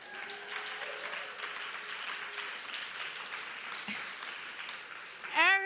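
An audience at a spring music fundraiser applauds steadily, with dense even clapping throughout, ending in a brief louder sound.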